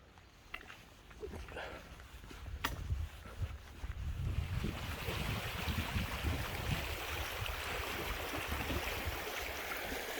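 Clear water of the River Bradford in a dale rushing and splashing, faint at first and swelling to a steady, close, broad wash that fills the rest of the time.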